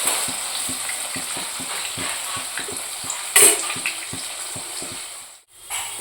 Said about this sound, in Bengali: এদিকে পনিরটা আমার ভাজা হয়ে গেছে।